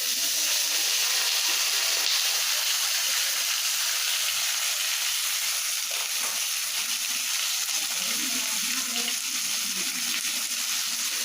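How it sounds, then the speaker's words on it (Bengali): Potatoes are added to a pan of fried onions and sizzle loudly and continuously, a dense close hiss that holds steady throughout with no voices. "এবার আলুটা দেব"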